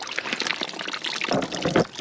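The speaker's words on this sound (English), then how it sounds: "Yeah, that's fast enough, just a little bit of patience and that'll soon drain out." Antifreeze coolant drains from a van radiator into a bucket, a steady close pouring trickle that thickens and grows louder near the end, with no talk over it.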